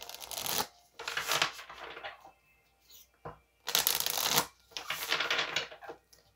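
Tarot cards are shuffled and drawn in several loud, close bursts of riffling and slapping, separated by short quiet pauses.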